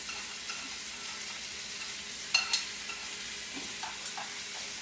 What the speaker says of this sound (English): Give it a good stir here.